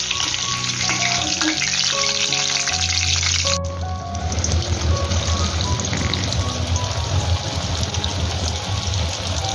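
Chicken lollipops fry in hot oil, giving a continuous close hiss and crackling sizzle that stays steady and fairly loud throughout, with a brief clatter partway through and no talking.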